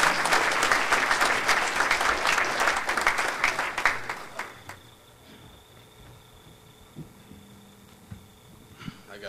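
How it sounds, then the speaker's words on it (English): An event audience gives a speaker a big round of applause, with steady, full clapping for several seconds that trails off into a quiet room with faint murmurs. "I want to give him a big round of applause before he speaks"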